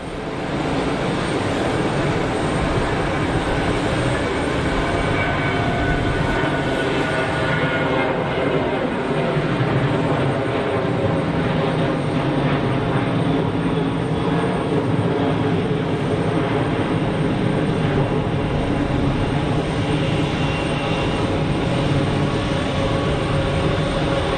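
A TUI Boeing 737 MAX airliner at Geneva Airport produces a loud, continuous jet engine roar that holds steady throughout, close and dominant.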